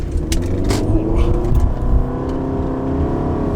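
The engine of a 2009 Toyota Camry Hybrid with a hybrid system fault revs hard under full acceleration, a loud, steady, close drone that holds throughout.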